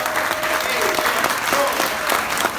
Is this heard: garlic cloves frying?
no